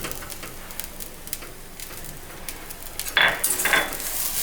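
Grated coconut and urad dal sautéing in a pan for pirandai thuvayal, a soft low sizzle with faint scraping, turning louder with a few sharper clinks of a spatula against the pan near the end.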